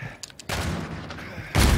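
Two loud, booming KBS Longbow sniper rifle shots from Call of Duty Infinite Warfare, each followed by a sustained echoing tail, with brief faint clicks before the first.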